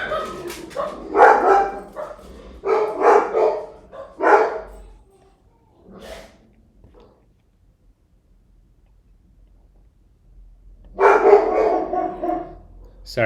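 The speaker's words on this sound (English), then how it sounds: "The barking will be over in a second." A dog barks in several quick bursts at close range indoors, then falls quiet for a few seconds before another burst of barking.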